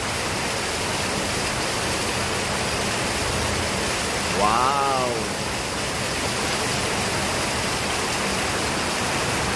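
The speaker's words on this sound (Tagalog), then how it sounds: "Malakas po ang ulan, ha?" Heavy rain pouring down in a steady, loud hiss that fills the whole scene, with a voice briefly calling out in the middle.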